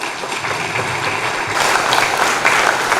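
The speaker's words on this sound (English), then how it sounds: "A very big round of applause." Symposium audience giving a hearty round of applause after a presentation, steady dense clapping that swells louder midway through.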